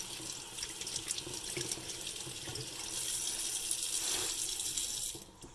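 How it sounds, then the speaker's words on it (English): A sink tap runs a steady stream of water over gel water pillows, a close hissing splash that grows fuller midway and then cuts off abruptly at the end. "So I'm gonna come over to our sink over here and get the gel inside of those wet."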